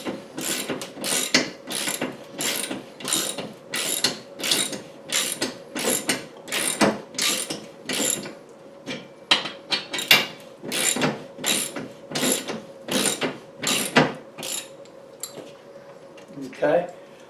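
Wall mount bracket bolts for a big screen TV are driven in with rapid, regular ratcheting clicks repeating for many seconds before tapering off, close up and crisp.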